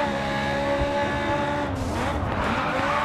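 Race car in the racing game Grid 2 braking hard, a loud steady engine roar with tyre squeal and skidding swelling midway, sustained and close throughout.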